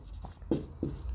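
Pen writing on paper during a math lesson, a few short scratchy strokes close by, with quiet pauses between them.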